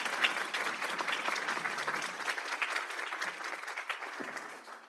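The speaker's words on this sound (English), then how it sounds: "So please give her a big round of applause" Audience applause at a school board regular meeting honoring an absent paraeducator, a moderate crowd clapping steadily for several seconds at a fairly soft, slightly distant level.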